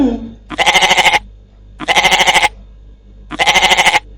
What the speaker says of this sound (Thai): เสียงของแพะ